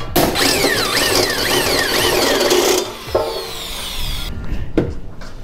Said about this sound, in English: Let's go ahead and get this drilled out.